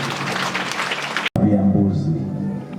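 Congregation clapping during a Swahili church healing service, a burst of applause that cuts off abruptly midway, followed by someone speaking over the quieter room.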